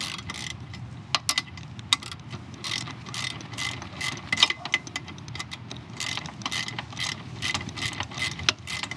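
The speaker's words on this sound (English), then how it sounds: "Now I have to take out this bolt here." A ratchet wrench backs out a 12 mm bolt on a Classic 350 motorcycle, giving rapid, uneven clicking bursts close by for several seconds with no voice.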